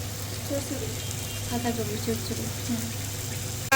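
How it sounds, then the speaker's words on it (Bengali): Meat with spices sautéing in a pan with a splash of water, a soft, even sizzle with a low steady hum underneath and a sharp clatter at the very end. "এখন মশলাগুলো দিয়ে নিব সব মাংসগুলো দিয়ে নিব হালকা একটু জল দিয়ে নিয়েছি কষানোর জন্য"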